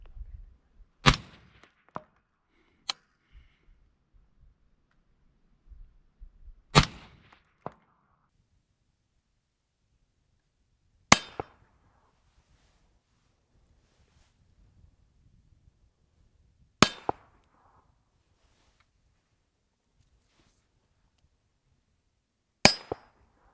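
Rifle fitted with a B&T MARS 556 QD suppressor firing at steel targets outdoors, five sharp muffled reports spaced several seconds apart, each followed by a faint distant metallic ring, with near silence between shots and no talking.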